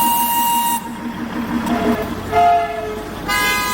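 Several sharp, tonal horn toots sound from the Darjeeling toy train, which runs on steam and diesel engines. The blasts come close and loud, separated by short gaps of engine and track noise.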